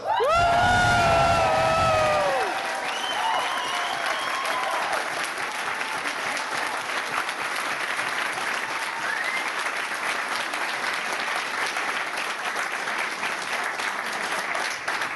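A crowd of store staff in a Best Buy shop claps and cheers. Loud whoops open the sound, then steady applause carries on at an even level for the rest of the stretch, with faint voices mixed in.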